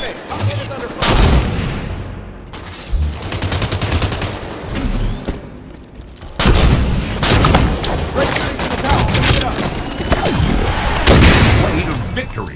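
Rapid gunfire and blasts from a Halo 5 beta multiplayer match crackle almost without a break, loud and dense, with bursts and booms layered under a speaking voice.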